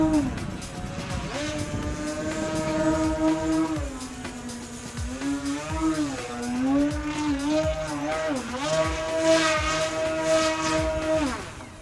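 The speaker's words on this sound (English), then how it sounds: "The motors do produce a lot of thrust, making a pass here" Electric motors on a Flex Innovations Twin Otter 80E RC plane drone steadily during a flying pass, the pitch bending up and down as it passes by, with faint talk underneath.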